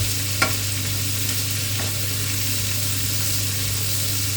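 Ingredients for Spanish paella stir-fry in a pan, a steady broadband sizzle with faint scraping stirs near the start, running continuously under a low constant hum without any talk.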